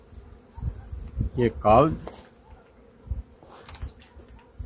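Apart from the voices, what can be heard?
honeybees buzzing in a strong hive colony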